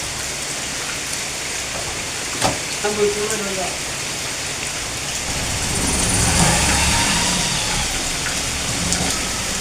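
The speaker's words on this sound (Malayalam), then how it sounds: "അപ്പോൾ പെരും മഴയാണ്" Heavy rain hisses steadily in a dense wash of noise, growing louder toward the end, with a few brief knocks and faint murmurs underneath.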